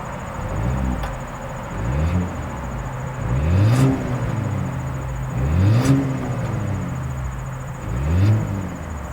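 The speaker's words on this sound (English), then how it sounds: "As always, here is that exhaust clip." Exhaust note of a 2026 Volvo XC60 SUV, heard outdoors as several repeated rev blips rising and falling about every two seconds over a steady idle, fairly close, with faint insect-like whir in the background.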